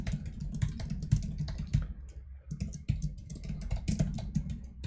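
Rapid, close clicking of keys on a computer keyboard while typing code, a dense run of taps with a brief pause midway, and no voices.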